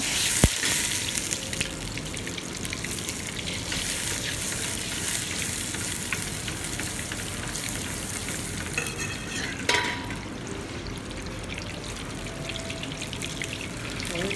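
Butter melting into hot oil in a pan, sizzling and crackling steadily and close up, with a sharp clink at the start and a scraping stir partway through.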